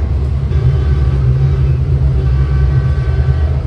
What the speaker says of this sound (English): with the speed that it just crossed that road, this is definitely not a tram